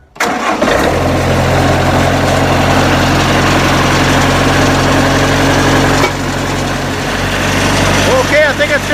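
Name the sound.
Wood-Mizer sawmill engine starting after oil change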